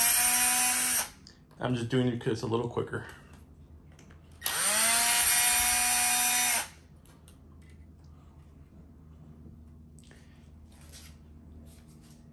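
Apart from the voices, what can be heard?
power drill removing screws from a pet door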